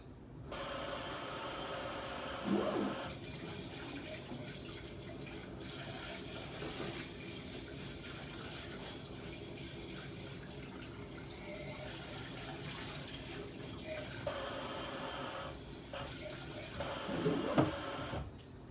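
Tap water runs steadily into a kitchen sink while an item is rinsed, a continuous faint splashing rush with brief louder knocks near the start and end, no talking.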